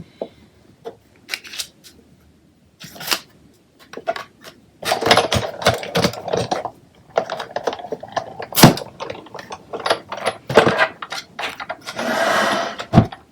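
A die-cutting machine runs vanilla cardstock through with the largest circle die from a Stitched Shapes set. Close clicks and rattling handling noises lead into a dense stretch of cranking and clunking, ending in a brief rolling grind.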